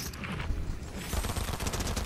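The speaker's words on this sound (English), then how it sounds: "I didn't know this shotgun could shoot so fast either." Rapid repeated shotgun blasts in the video game Fortnite, a dense run of loud, punchy shots firing in quick succession with little gap between them, close and continuous throughout.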